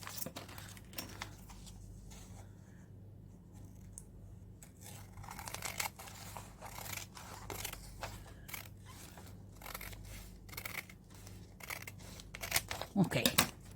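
Scissors trimming excess paper from an art journal page, producing a string of soft, close snips and crinkles at an uneven pace, with a louder rustle of paper handling toward the end.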